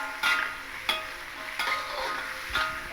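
Broccoli poriyal stirred in a pan, four evenly spaced scraping strokes of a spoon against the metal over a low frying sizzle, close and clear with no voices.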